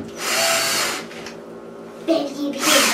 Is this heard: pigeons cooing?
no